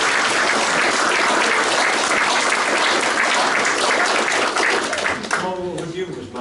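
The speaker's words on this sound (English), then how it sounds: "I'm sure we'd all like to give you a round of applause" A seated audience gives loud, sustained applause for a newly named honorary fellow after a talk on the Manchester Mark 1 computer, dying away as a voice begins speaking.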